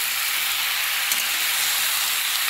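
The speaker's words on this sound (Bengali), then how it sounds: "দিয়ে দিলাম কুমড়োটা আর আলুটা। চলো এটা একটু ভাজা ভাজা করে নিই।" Pumpkin and potato pieces fry in a pan for a vegetarian pumpkin curry, giving a steady, close, even sizzle that runs unbroken throughout with no talking.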